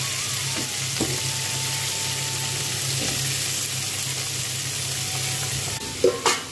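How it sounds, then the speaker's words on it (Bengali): Bitter gourd, pumpkin, potato, carrot and onion frying together in oil, a steady close sizzle with occasional stirring scrapes and a couple of louder clatters near the end, no talking. "উচ্ছে, কুমড়ো, আলু, গাজর, পেঁয়াজ সব দিয়ে 5 মিনিট ভাজা।"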